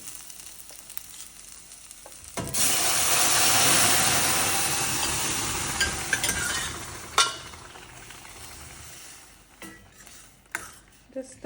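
Dal tipped into a pan of well-fried onions breaks into a loud, steady sizzle with stirring scrapes, fading slightly after several seconds, followed by occasional clinks and taps.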